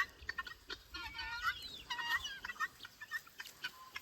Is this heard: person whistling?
no